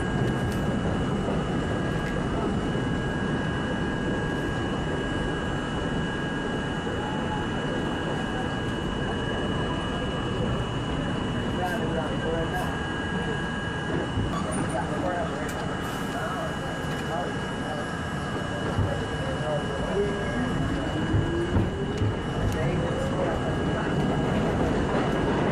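R32 subway car built by Budd Co. in 1964, running on a Euclid Avenue–bound C train as it pulls into Chambers Street station: a steady, loud rumble of wheels and motors with a high whine, continuous throughout.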